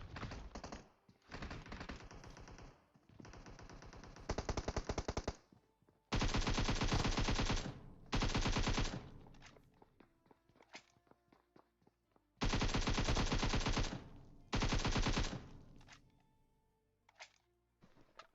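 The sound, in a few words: gunfire in a shooting video game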